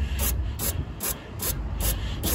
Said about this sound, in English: kicking it over a little bit, and then scooping it up and dumping into my bucket